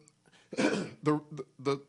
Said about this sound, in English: As he coughs.